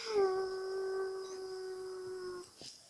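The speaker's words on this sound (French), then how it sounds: "Les chiens rageux." A rabid dog in a video game gives one long, steady howl that holds for about two seconds before breaking off, with faint game sounds around it.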